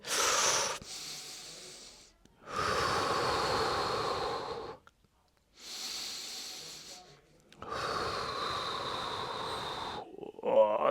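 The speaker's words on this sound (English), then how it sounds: "we got to make sure we breathe" Heavy, strained breathing during a slant board stretching exercise: four long rasping exhales separated by short silent pauses, close to the microphone, with a faint voice at the end.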